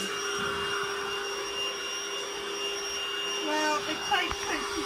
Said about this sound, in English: Vacuuming under my telescope now, huh?